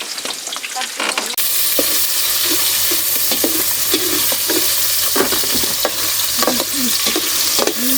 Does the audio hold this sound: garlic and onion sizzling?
yes